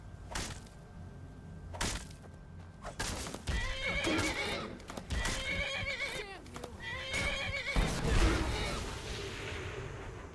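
A horse in a modded Fallout 4 or Skyrim game whinnies loudly several times between clip-clopping hooves, with distant gunfire, thuds and a voice talking over it.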